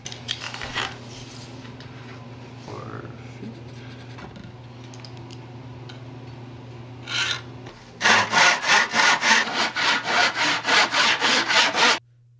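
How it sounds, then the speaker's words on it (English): A hand saw cuts 2x4 lumber in a miter box, with quiet scraping first and then a loud run of rhythmic back-and-forth saw strokes before it stops abruptly. "I have a saw and a miter box"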